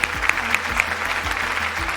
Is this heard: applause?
yes